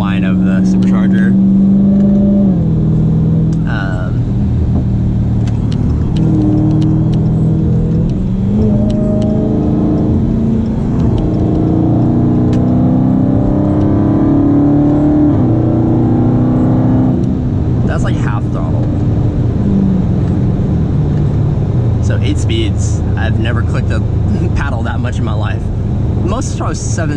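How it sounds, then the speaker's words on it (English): Supercharger whine from a Dodge Charger Hellcat rises and falls with the engine while driving, a steady cabin drone with revving swells. A radar detector whines in the car too, and people talk over it throughout. "You can hear the whine of the radar detector and also, I guess, the whine of the supercharger."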